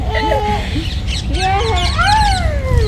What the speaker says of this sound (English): Ang daming bird!